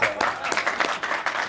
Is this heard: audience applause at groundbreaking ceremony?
yes